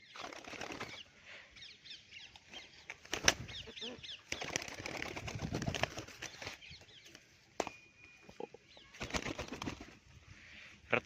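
Bursts of bird wing flapping come and go over several seconds, mixed with chirps and cooing in the background, moderately near.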